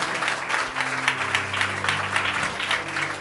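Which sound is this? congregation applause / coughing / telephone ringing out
congregation applause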